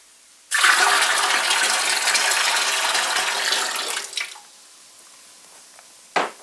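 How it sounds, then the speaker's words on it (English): A medication mixture pours steadily into a tank of sugar syrup for beehive feeding, about three and a half seconds, a broad rushing splash that tapers off, followed by a brief clink. "pour the medication mixture into the tank of sugar syrup"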